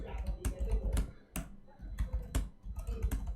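Keys clatter in quick bursts and pauses on a computer keyboard while typing text into the Vim editor on Linux, close and fairly loud with sharp clicks throughout.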